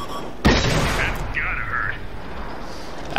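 Stug III tank cannon in a video game fires once with a sharp loud boom that decays into a rumbling tail, followed by fainter battlefield noise.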